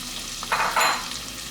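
Asparagus, tomatoes and garlic frying in a pan at home, a broadband sizzle with two louder swells as food is stirred, close and steady with no talking.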